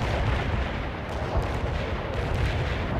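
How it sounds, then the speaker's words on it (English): A heavy artillery barrage in the World in Conflict video game sounds as a dense, continuous rumble of booming shell impacts and sharp cracks, loud and sustained across the whole stretch with no clear pauses. "We can stop the heavy barrage!"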